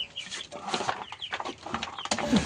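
Backyard chickens cluck and squawk up close in a busy, overlapping chorus, a sharper call rising near the end.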